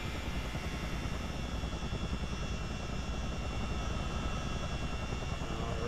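Engine and twin rotors of a CH-47D helicopter in a flight simulation game drone steadily, a continuous dense whine with rumbling low end and a rhythmic chop, moderately loud with no voices.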